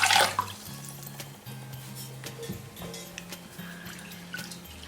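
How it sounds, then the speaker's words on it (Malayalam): Water is poured into a pot of sago pearls while making mango payasam. It gives a soft, steady liquid trickle over a low background hum and carries on for several seconds. "ഇനി ഇതിലേക്ക് ചവ്വരി വേവാൻ വേണ്ടിയിട്ട് 3 ഗ്ലാസ് വെള്ളം ഒഴിക്കുന്നുണ്ട്."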